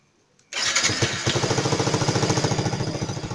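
A Yamaha R15 v3 motorcycle engine fires up with the manual starter after a brief quiet moment, then settles into a loud, close, rhythmic idle that pulses evenly to the end.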